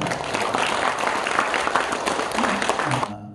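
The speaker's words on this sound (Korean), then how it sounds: "박수 한번 주세요." A crowd bursts into steady, full applause at a lecture, a dense stretch of many hands clapping close and loud that cuts off abruptly.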